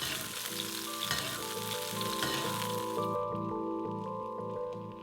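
Salmon sizzles steadily in hot butter in a pan while being basted, a dense, close crackle with spoon clinks and a low steady hum beneath.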